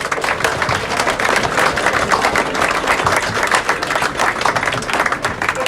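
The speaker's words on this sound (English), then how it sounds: "I think they deserve a big round of applause." Loud, dense applause from a rugby club crowd at Plymouth Albion honouring the players, a steady wash of many hands clapping close by that holds without a break.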